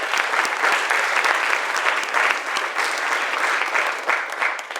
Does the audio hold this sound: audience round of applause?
yes